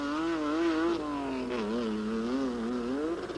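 Chevrolet Open Mini Truck racing in the 1989 Parker 400 off-road race, its engine whining loudly with rising and falling revs as it drives past close by.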